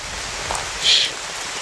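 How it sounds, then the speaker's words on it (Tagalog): Rain falls in a steady, even hiss of broadband patter, with a brief brighter splash near the middle and no voices. "Naabutan tuloy ako ng ulan."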